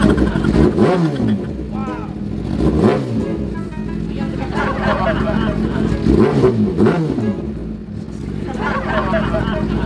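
A motorcycle engine revs up and down several times, rising and falling in pitch, with a murmur of voices and street noise around it.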